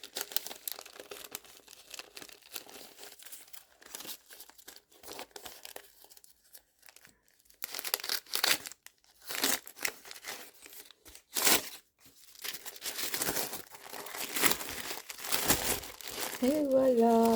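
A plastic packaging pouch from an Advent calendar is opened with repeated close crinkling and tearing rustles in irregular bursts, while someone talks over parts of it.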